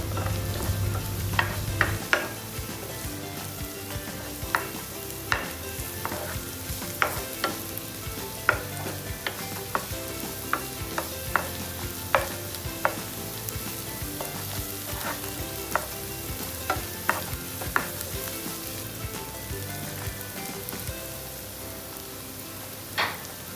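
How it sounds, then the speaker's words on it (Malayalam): Curry leaves frying and being stirred in a pan for a long bean thoran: a constant close sizzle punctuated by regular sharp scraping clicks of the spoon against the pan, with no voices. "ഗോൾഡൻ ബ്രൗൺ ആകുതനം വരെ തുടർച്ചയായി ഇളക്കുക ശേഷം ആവശ്യത്തിന് കറിവേപ്പില അതിലേക്ക് ഇടുക വീണ്ടും ഇളകി കൊടുക്കുക"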